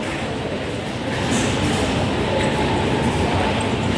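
A steady, loud rumbling roar of a metro train running continuously, swelling slightly after the first second.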